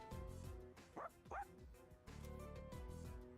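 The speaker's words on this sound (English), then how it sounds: "Give the dog a treat, I bet it'll speak too." A dog barks a few times in a game scene with music playing underneath, giving short yelping barks in a quick pair followed by softer woofs, fairly close.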